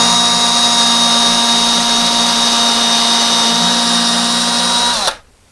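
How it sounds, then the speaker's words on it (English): A power drill boring a pilot hole into a wall for a coat hook, a steady high whine held for about five seconds, then stopping abruptly. "We're going to just drill it just to the depth of the tape."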